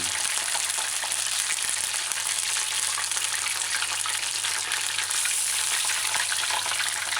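Battered sesame chicken pieces fry in hot oil in a pan, a steady, bright crackling sizzle that stays even and close throughout, with no voices over it.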